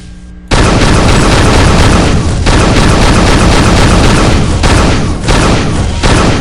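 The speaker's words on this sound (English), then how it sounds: "The dispersion pistol doesn't have a whole lot of punch, but it's always there for you because it never runs out of ammo." Dispersion pistol practice shots in the video game Unreal 2 make a loud, dense, continuous energy roar with several brief dips, as though shots are fired in rapid succession.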